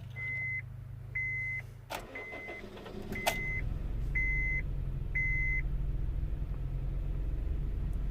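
A Honda Jazz 1.2 with a misfire on two cylinders cranks and catches after a run of repeated dashboard warning beeps, then settles into a steady, rough engine rumble close by.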